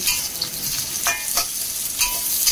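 Carrots stir-fried in a pan during a sauté alongside roast goose, a steady close sizzle with several stirring scrapes and clatters, no talking.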